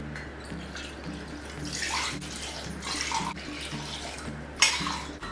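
Water pouring into a saucepan on a home stove for eggless coconut ice cream, a steady splashing stream in short bursts with faint clinks of metal, close and alone with no talk.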